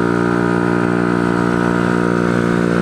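A motorcycle engine drones loud and steady while riding, with a raspy exhaust note holding a constant pitch throughout, close up and alone without talk.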